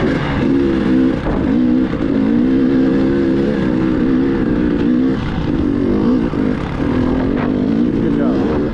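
A dirt bike engine revs on the throttle during a ride, a loud, close, continuous buzzing drone that rises and dips in pitch, with people's voices mixed in.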